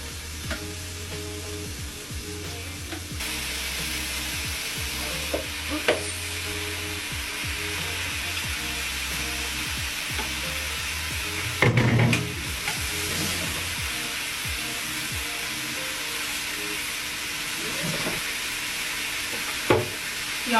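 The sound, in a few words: chicken browning and sizzling in a pan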